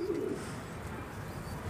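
Pigeons coo softly at a backyard loft, a short low burble near the start fading into quiet ambient noise, with one pigeon chasing a stranger bird.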